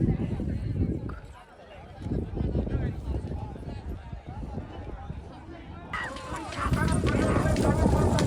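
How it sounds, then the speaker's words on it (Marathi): Bullock cart race with bulls running past, hooves pounding in a busy rhythm that swells near the end, under crowd babble and shouting people. "आहे बघा आता बैला चालल्या"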